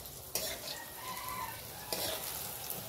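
Pakora made from gedal leaves sizzles in a pan in a village kitchen, a steady crackling hiss broken by two sharp clinks of a utensil as the pieces are turned.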